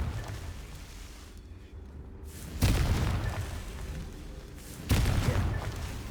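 Confringo blast spell in Hogwarts Legacy: two booming explosions, around 2.6 and 4.9 seconds, each bursting loud over a low rumbling game background, with no talk.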